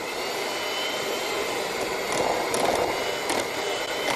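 Electric mixer whirring steadily through gluten-free oatmeal chocolate chip cookie dough, a continuous motor hum that swells briefly louder midway, with no speech.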